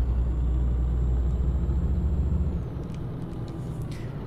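Scania truck engine in Scania Truck Driving Simulator, a steady loud low rumble that drops in level partway through, with faint high whine and clicks above, no talk.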